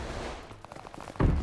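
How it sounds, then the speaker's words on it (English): Gunfire in the Call of Duty Vanguard beta on PS5, a quick rattle of shots ending in a louder burst of fire. "Someone's shooting my bottom."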